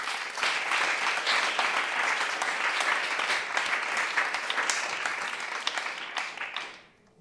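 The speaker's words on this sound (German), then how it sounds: "dass auch sie mit einem warmen Applaus willkommen geheißen wird" Warm, sustained audience applause welcoming poet Amina Abdulkadir at a poetry slam, a dense, steady clapping that holds for about six seconds before tapering off quickly at the end.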